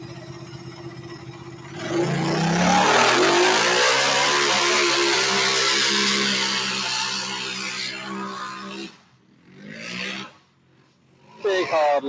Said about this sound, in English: hard launch for the car 53 there